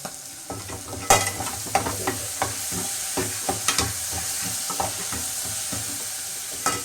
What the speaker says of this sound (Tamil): போட்டு நல்லா இதையும் நல்லா வதக்கிக்கலாம்